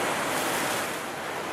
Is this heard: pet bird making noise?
no